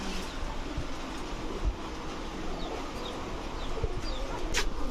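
Pigeons at a Bangladeshi loft, large fancy breeds kept for breeding, cooing softly in a steady low murmur throughout, with faint chirps and a low background rumble.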